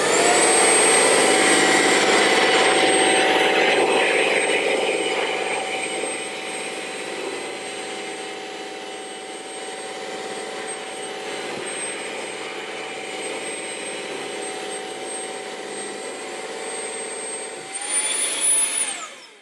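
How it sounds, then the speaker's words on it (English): A Bissell CrossWave Omniforce Edge wet-dry vacuum runs continuously across a hard floor. Its steady high-pitched motor whine and broadband whoosh are loud and close, ease slightly partway through, then surge briefly near the end. "we're gonna go ahead and get those with the Bissell CrossWave Omniforce Edge"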